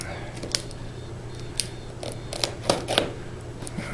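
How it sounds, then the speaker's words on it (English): Dull razor blade slicing through tape on a guitar straight-edge job, heard as several short scratchy, rasping cuts scattered across a few seconds over a steady low hum, close and fairly quiet. "Oh, that's a dull razor."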